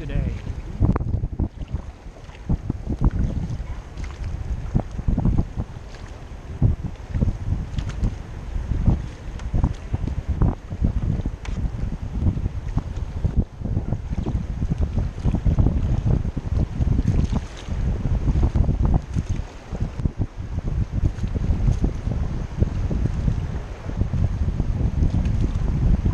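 Steady wind buffeting the microphone while whitewater rafting on the South Fork American River, a constant rumbling roar with rushing water beneath it.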